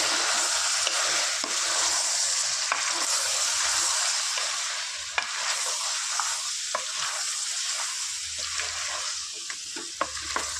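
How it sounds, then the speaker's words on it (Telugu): Mutton curry being stirred in a hot pan after chilli powder and masala go in, a loud continuous sizzle with scraping spoon strokes and small clicks, close up and without talk. "ఒక వన్ స్పూను మసాలా వేసుకొని దీన్ని కలుపుతున్నాం"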